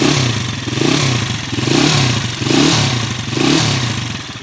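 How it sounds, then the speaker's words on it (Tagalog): A motorcycle engine fitted with a 7.8 racing cam idles close by with a lopey, rhythmic surge roughly every second, a fast mechanical ticking and clatter running through it. "Maririnig nyo malagitik pa."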